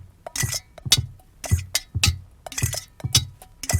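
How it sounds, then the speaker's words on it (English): A spoon scratches and taps across a metal vegetable strainer as a percussion effect, producing a rhythmic series of bright raspy scrapes and clinks at a steady tempo, close and alone with no voices. "a vegetable strainer scratched with a spoon"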